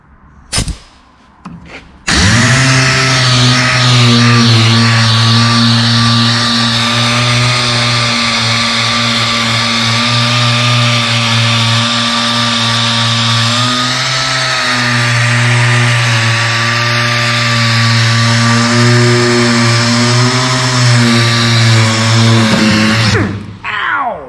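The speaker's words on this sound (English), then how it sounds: "I'll grab my DA. I think I'm just gonna try to sand that and see what it looks like." A DA sander works on a dented car body panel, giving a loud, continuous whining drone with a steady pitch. It runs for about twenty seconds between brief handling knocks at the start and end.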